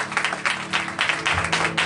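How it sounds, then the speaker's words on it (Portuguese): A church congregation at a missions worship service applauds with loud, rhythmic clapping in steady pulses, fairly close and continuous throughout. "pode aplaudir Jesus."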